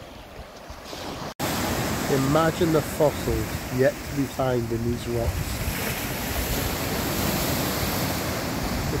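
Sea waves surge against a curved concrete sea wall on the Jurassic coast at Lyme Regis, a steady broad wash mixed with wind noise while someone talks over it throughout.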